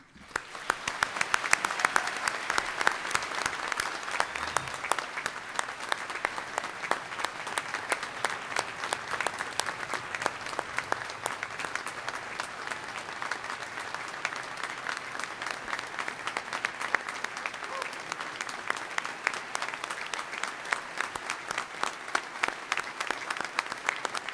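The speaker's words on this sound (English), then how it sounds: "I ask for a round of applause for Dr. Jim Newman" A large audience at a Naval Postgraduate School graduation claps steadily for Dr. Jim Newman, a sustained, even round of applause from many hands lasting over twenty seconds at moderate distance.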